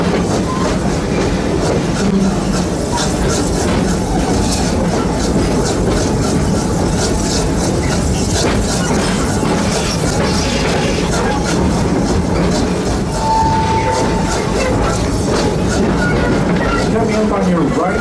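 A Busch Gardens steam train rolls steadily along its track, loud and close, with a continuous rumble and rhythmic clickety-clack of the cars while a guide narrates over it.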